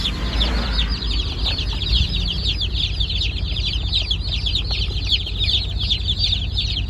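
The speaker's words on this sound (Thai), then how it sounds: "เป็นเป็ดที่ผมจะจับเป็นเป็ดสาวพร้อมไข่ อายุห้าเดือน" A large flock of five-month-old young laying ducks forages below the Srinakarin Dam, filling the air with steady, dense chattering calls that carry on without a break.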